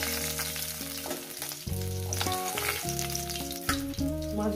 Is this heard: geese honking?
no